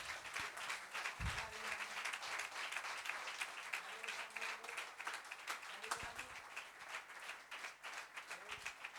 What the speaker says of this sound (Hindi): अब तालियों की गड़गड़ाहट लगातार होनी है